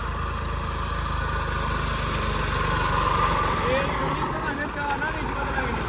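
A tractor engine idles steadily and close by throughout, a continuous low rumble that persists under outdoor talk.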